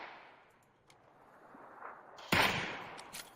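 Sharp gunfire bursts in PUBG, a loud cluster of shots erupting partway through and trailing into scattered reports, with quieter ambient game noise before.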